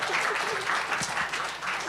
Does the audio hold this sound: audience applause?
yes